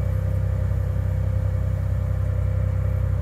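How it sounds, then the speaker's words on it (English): Idle of a 1991 Ford F150 4.9L engine raised by about 500 RPM after a tune upload, heard as a close, loud, steady low rumble with an even rhythmic pulse. "And you can hear the RPM go up."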